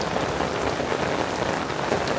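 Heavy, steady rain beats down on raised garden beds, a dense, loud, continuous hiss of drops with no voices.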